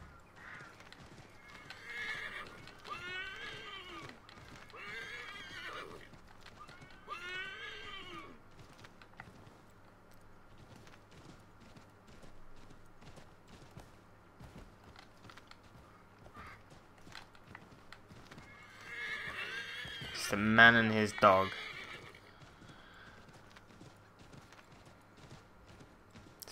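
A horse in the video game Assassin's Creed III whinnies several times, then gallops with a burst of clip-clop hooves and a loud neigh near the end, under occasional talk and game ambience.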